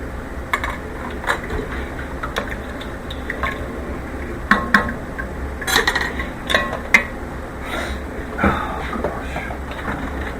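A spoon mashing cooked asparagus into a paste for soup, with irregular scraping and clinking against a pot or bowl, soft wet squishing in between and a few sharper knocks, close up and steady.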